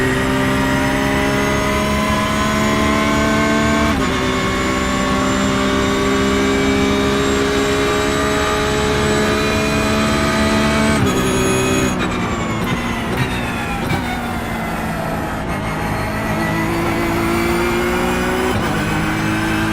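Porsche 911 GT3 R race car engine in iRacing at Bathurst, loud and steady with harmonic drone, rising through gears and dropping at quick short shifts around 4, 11 and 15 seconds.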